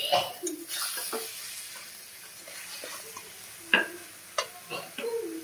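Chicken pieces, a homestyle desi hen, stirred in a hot wok with a steady sizzle, scraping and occasional clinks of the spatula against the metal sounding close and clear, with no talking.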